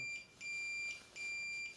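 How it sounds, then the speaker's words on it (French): Simulated alarm on an Iddero Verso KNX touchscreen, three evenly spaced electronic beeps, each about half a second long, clean and moderately faint against a quiet background. "Ok, donc là on peut simuler une alarme."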